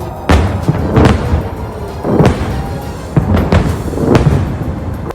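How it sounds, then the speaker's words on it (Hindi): Hezbollah rockets bursting one after another in the sky over Lebanon's southern border as Iron Dome intercepts them: a run of sharp, loud booms and crackling blasts, several in quick succession with short gaps, with no talking. "रॉकेटों के फटने से आसमान में ऐसे धमाके हुए जैसे दिवाली के पटाखे फूट रहे हों।"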